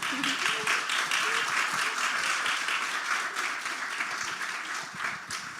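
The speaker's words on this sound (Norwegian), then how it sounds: "Vi klapper da" A studio audience at a Norwegian podcast taping claps steadily, a dense, continuous round of applause that holds at an even level throughout.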